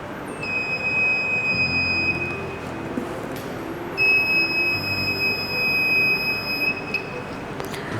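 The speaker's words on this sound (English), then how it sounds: "then the buzzer starts ringing" A high electronic buzzer, a water-level alarm, sounds steadily for a few seconds, stops, then rings again, piercing over a constant low rumbling background.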